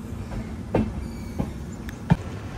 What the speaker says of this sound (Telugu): ఇక్కడైతే ఒక 1 minute స్టాప్ తర్వాతనైతే మళ్ళీ మన ట్రైన్ అయితే స్టార్ట్ అయిపోయింది